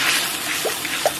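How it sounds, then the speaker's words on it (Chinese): Water pours steadily into a cooking pot for a spicy maocai hot-pot broth, a continuous, fairly loud splashing trickle lasting the whole moment, with a couple of brighter drips near the end. "锅里边稍微来点水"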